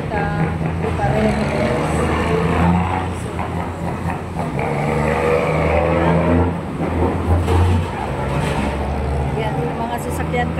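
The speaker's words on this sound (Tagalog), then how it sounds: "Yan, mga sasakyan coming from Quiapo." Weekend summer traffic streams through a busy Manila intersection, with cars and heavier vehicles rumbling and revving in a continuous dense wash while someone talks over it.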